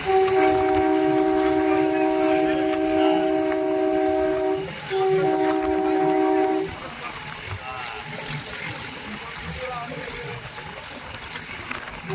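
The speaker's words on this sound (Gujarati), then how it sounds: "ડુંગરામાંથી ટ્રેન પસાર થઈ રહી છે." A train horn sounds in two long blasts over steady rumbling of a train passing through hilly forest, then the rolling rail noise continues on its own.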